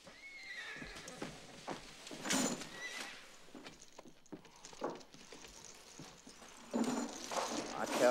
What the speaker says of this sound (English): The horse is outside.